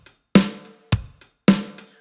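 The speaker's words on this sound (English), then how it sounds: "Hi-hats on 8th notes, snare drum on 2 and 4, bass drum on 1 and 3." Straight eighth-note drum groove played on a kit, with hi-hats, snare and bass drum heard as a few sharp close hits spaced in a steady pulse, alone and with no talking.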